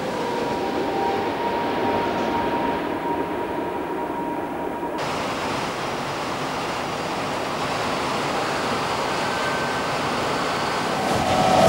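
The Emsland maglev train prototype running on its test track, a continuous loud rushing roar that swells toward the end.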